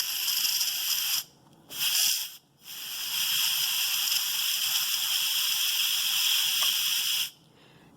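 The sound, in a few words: Instant Pot pressure cooker releasing steam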